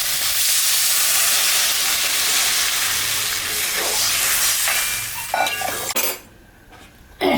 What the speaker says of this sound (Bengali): ভাজা হয়ে গেছে, এখন আমি জল দিয়ে দেবো।